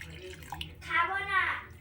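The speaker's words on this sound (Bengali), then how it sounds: "এই কাপে আমি ঢেলে নেব" Orange tea is poured into one of three cups in a short, quiet stream whose pitch rises as the cup fills, lasting under a second.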